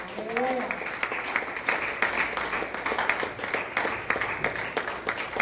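A church congregation claps and applauds for several seconds during a sermon, a dense steady patter mixed with voices and music throughout.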